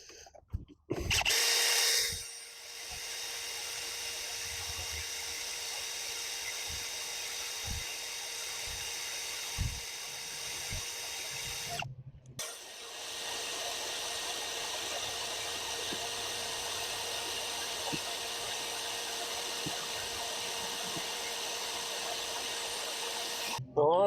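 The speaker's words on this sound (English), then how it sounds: "I run most of my drill bits on a low speed and take my time" A power drill runs at low speed in long steady stretches, a close whirring hum that stops briefly, restarts and continues, with short clicks and knocks in between.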